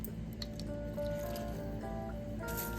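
A lime half is squeezed by hand over food for enchiladas suizas, giving a close, wet squishing with a few small drips of juice, short and unaccompanied by speech.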